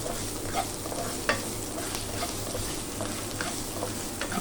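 Century tuna and onion are stirred in a frying pan for a sautéed tuna and eggplant dish: a close, constant sizzle with repeated spatula scrapes and one sharper knock.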